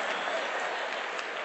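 Brief burst of audience applause at a live stand-up comedy show, dense even clapping filling the moment with no talk over it.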